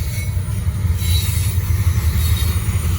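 A Norfolk Southern freight train rolling past on the Charlotte District at Gaffney, South Carolina, a steady heavy rumble of wagons with a faint high wheel squeal, loud and close throughout.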